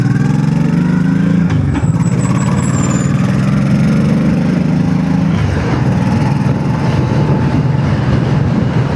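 A Honda Shadow 1100 motorcycle engine cruises in third gear at low throttle, sounding like a loud, steady, close-up low rumble with wind noise for the whole stretch.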